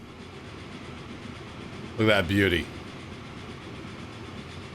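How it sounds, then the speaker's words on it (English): A big steam 10-wheeler freight locomotive in Transport Fever 2 heads down a mountain line on rails. A steady rumbling roll runs throughout while someone speaks briefly over it. "Let's check in on our Conmat train."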